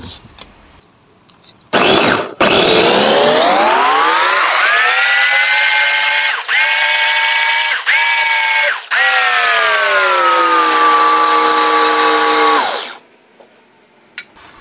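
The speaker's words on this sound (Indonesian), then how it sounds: "Kita haluskan bahannya terlebih dahulu." Electric blender grinding spice paste ingredients with about 100 ml of water for a grilled-dish seasoning, a loud steady whirring motor that starts abruptly, dips briefly in pitch a few times, then slows and cuts off near the end.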